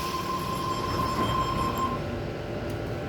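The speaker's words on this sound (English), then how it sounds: "we have a Cronulla service now leaving platform number 2." A Cronulla-bound suburban train pulls away from platform 2 at Penshurst station, a steady close rumble of wheels and carriages with a faint high tonal whine, no one speaking over it.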